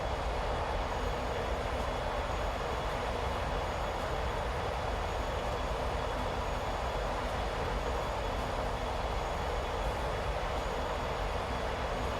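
A Boeing 757's jet engines roar steadily at full takeoff thrust, a loud continuous broadband rush that holds without a break.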